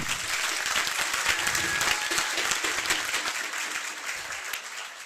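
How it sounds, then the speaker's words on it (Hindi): Sustained, dense applause from a seminar audience applauding the staff, steady and fairly loud throughout and easing slightly toward the end, with no talk over it. "सभी के लिए एक बार दिल से जोरदार तालियां हो जाए।"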